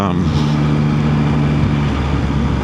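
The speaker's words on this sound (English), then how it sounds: "when you twist the throttle and get the induction noise coming through those grills, the sound is just epic" A Yamaha MT-09 motorcycle with its stock exhaust runs close by, giving a steady, loud engine drone with droning harmonic tones and a slight rise as the throttle opens, while someone talks over it.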